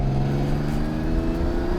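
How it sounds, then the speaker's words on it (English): Lamborghini LP400 with its V12 engine, driven with a manual gearbox, drones steadily up close as a loud, continuous low mechanical hum with no break. "This is the LP400 I'm driving."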